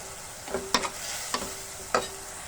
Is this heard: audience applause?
no